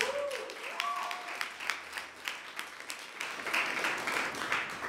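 Audience applause for students at a Phi Theta Kappa honor society ceremony at Merritt College, a steady smattering of claps from a modest crowd lasting the whole stretch, with a brief faint tone near the start.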